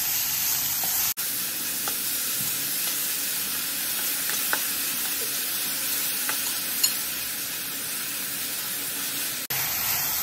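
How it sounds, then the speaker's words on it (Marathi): Onion frying in oil in a pan for sukka chicken makes a steady, even sizzle with faint scattered pops, running alone without talk and dropping off briefly at the start and end. "तर आता याच्यामध्ये आपण कांदा घालूया। आणि तो तेलामध्ये चांगला फ्राय करून आपल्याला घ्यायचा आहे।"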